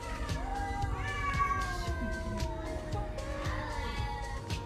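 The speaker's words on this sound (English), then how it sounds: "The cats are always fighting," Cats fighting at night in a street in Athens, with drawn-out rising and falling yowls and caterwauls from several animals, fairly close and loud over steady city background noise.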